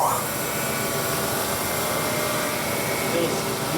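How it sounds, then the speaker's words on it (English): A belt sander grinds the chipped edge of an art-glass piece in a studio with a loud, continuous whirring hiss that stays steady for the whole stretch. "That's a belt sander. We can kind of run the piece on there,"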